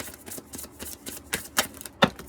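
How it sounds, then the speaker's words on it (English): A deck of cards is shuffled by hand in a series of short riffling bursts, quiet and close, ending in a couple of sharper snaps as the cards fall together. "Whoops. That was my shuffle. I'm not doing a very good job of shuffling here, right?"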